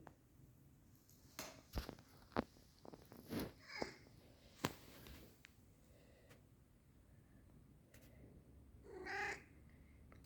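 A fat house cat moves about quietly, with soft scattered meows, light shuffling and a louder cry near the end, all faint and close.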